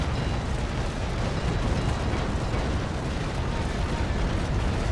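A dense, continuous roar of frigate cannon broadside fire and explosions in Naval Action Legends fills the whole stretch, loud and sustained without clear pauses between shots.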